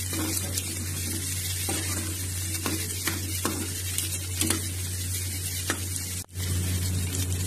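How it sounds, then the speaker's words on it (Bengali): Capsicum frying in a pan for chili chicken, a steady close sizzle with occasional stirring scrapes and a low hum beneath, no talk. "ক্যাপসিকাম দিয়ে আমাকে হালকা ভাজা ভাজা করে নিতে হবে।"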